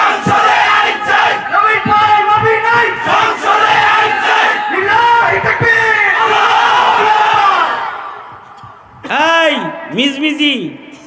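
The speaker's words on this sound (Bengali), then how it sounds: "এই যে এখানে তাকবীরটা দিয়া গেলাম" A large crowd at a rally roars takbir slogans in loud, rhythmic unison, with massed voices shouting together, then a brief lull before another surge of chanting.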